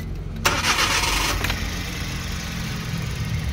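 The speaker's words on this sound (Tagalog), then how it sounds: "Okay, let's start the engine." A turbocharged Suzuki DA64W with a K6A engine, badly misfiring, cranks and catches, then settles into a steady, close idle that holds alone with no talk.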